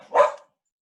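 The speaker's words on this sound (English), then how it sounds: "And that's my dog, because there's a mailman." A dog gives a single short, sharp bark at a mailman, close by, followed by silence.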